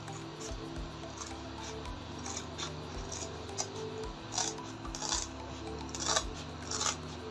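Scissors snipping through Ankara cotton fabric, a series of close crisp cuts and slides spaced irregularly over a low steady background hum.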